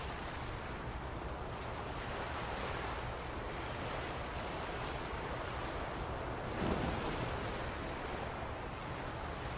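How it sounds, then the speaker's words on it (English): Ocean waves wash in steadily from the Love and Deepspace game, a soft, continuous surf roar with one slightly louder swell breaking, no voices. "Every sleep app uses the sounds of ocean waves for hypnosis and meditation."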